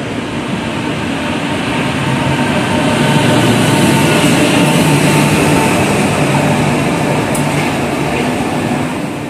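An NS class 1700 electric locomotive train at Amsterdam Centraal gives a loud, steady, close rumbling drone with broad hiss and a faint high whine, sustained throughout with no talk.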